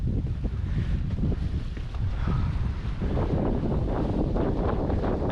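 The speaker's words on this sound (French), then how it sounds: "Il y a tout simplement 15 nœuds de vent." Strong 15-knot wind buffets the microphone with a constant low roar, mixed with the rush of water against a moving sailboat.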